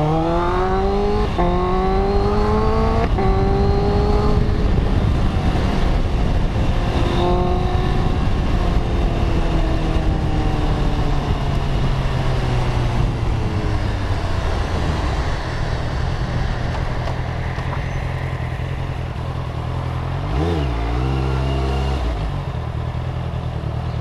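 A Honda CBR650 four-cylinder motorcycle rides in traffic with its engine loud and close, revving up through gears with rising and falling whine, then settling to a steadier drone with a brief rev near the end.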